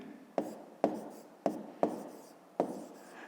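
Marker or chalk strokes on a board during a fifth-grade math lesson, five sharp taps and short scratches at an irregular, unhurried pace, close and moderately loud, with no talking.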